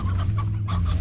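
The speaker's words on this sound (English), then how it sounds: "And I have so many hens here" Hens cluck in the farming video game Slime Rancher, a short burst of several soft, rapid clucks over a steady low hum, close and brief.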